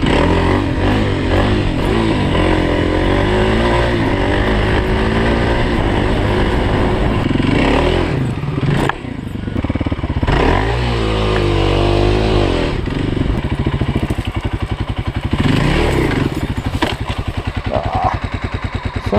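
A dual sport motorcycle ridden in first gear, its engine loud and close throughout, with the revs rising and falling under a smooth throttle and a brief dip partway through.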